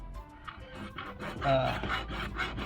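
A plain fine-toothed hacksaw cutting through a downspout stormwater pipe, with steady back-and-forth rasping strokes roughly twice a second, close and moderately loud.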